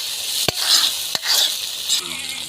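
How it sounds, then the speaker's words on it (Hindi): Chicken pieces with ginger and garlic frying in a pot for achari gosht, cooked village style: a loud, dense sizzle broken by two sharp spoon scrapes against the metal. "देखें कैसे माशाल्लाह इसको भुनाई हो रही है, ज़बरदस्त भुना जा रहा है गोश्त को बेहतरीन"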